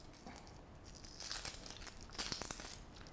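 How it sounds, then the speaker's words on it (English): Dry onion skin is peeled by hand from an onion cut in half in a home kitchen, making soft close crinkling and tearing sounds in short bursts with no talking. "And now I'm going to peel it."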